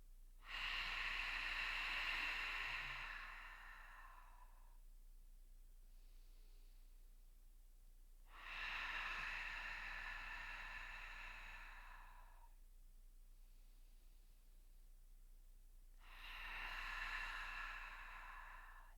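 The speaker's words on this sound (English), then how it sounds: "We're working those muscles with these deep, prolonged exhales." Three deep, prolonged exhales through an open mouth during a breathing exercise, each a long, breathy rush of air lasting several seconds, separated by quiet pauses, close and fairly soft.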